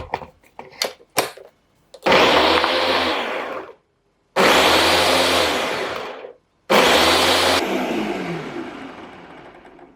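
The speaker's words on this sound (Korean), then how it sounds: "썰어놓은 토마토를 블렌더에 넣으세요." A blender whirs loudly in three bursts separated by brief pauses, blending chopped tomatoes and garlic, preceded by a few clicks and clatters.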